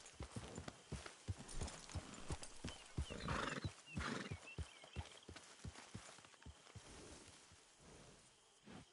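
Horse hooves clip-clop in a steady rapid rhythm in the Red Dead Redemption 2 video game, with a neigh and faint rustling in the middle, moderately close and quiet.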